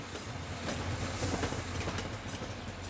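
MBTA commuter train set standing on a platform track, with a steady low rumble and broadband wash of rail noise and faint clanking throughout, no voices.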